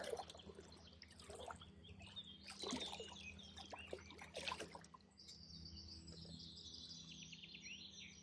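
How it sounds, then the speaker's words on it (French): A river flows gently in a calm natural setting, its soft, steady trickle running through the whole stretch at low level, with faint birdsong chirping over it. "La rivière coule doucement."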